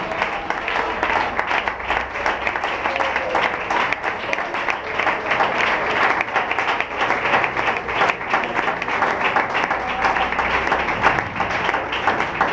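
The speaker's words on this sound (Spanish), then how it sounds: "Un aplauso fuerte a Jesús" A church congregation claps loudly during a Spanish-language sermon, a thick, sustained roar of many hands with slight surges in intensity, continuing unbroken for the whole stretch.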